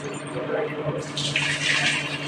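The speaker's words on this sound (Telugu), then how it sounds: "ఒక గ్లాసు నీళ్ళు పోసుకున్నాను" A glass of water pours steadily into a pan with a splashing, rushing sound that grows brighter and fuller partway through.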